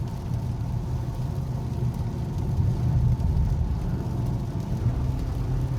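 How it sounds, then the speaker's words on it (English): A 2020 Toyota Camry SE AWD engine hums steadily with a low, continuous rumble while driving in the rain, swelling slightly partway through as it takes more throttle. "Gonna hit the gas a little bit. That's why you're gonna be hearing some engine noise"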